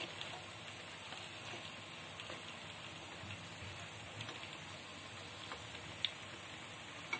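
Ragi paniyaram cooks in a kuzhi paniyaram pan, a faint, steady sizzle with a few soft clicks while the second side browns.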